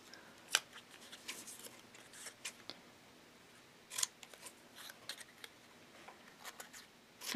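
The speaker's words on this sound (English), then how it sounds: "I'm going to cut each individual letter out into its own little rectangle" Scissors snip paper letters into small rectangles in sparse, crisp cuts with quiet pauses between them, close and faint, with no talking.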